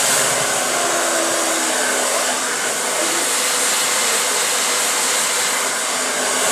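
A hair dryer blow-drying hair in a salon-style session, a loud, steady, unbroken rushing whir held close throughout, no talk.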